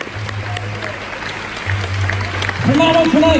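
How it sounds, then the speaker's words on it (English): Audience applause at a hypnotist's stage show at Florida Tech, a steady wash of clapping that swells louder toward the end as a voice speaks over it. "Give them all a huge round of applause"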